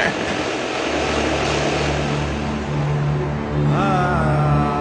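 A helicopter in the VBS2 military simulation game drones with a steady engine and rotor hum that thickens and rises in pitch toward the end, with no talk over it.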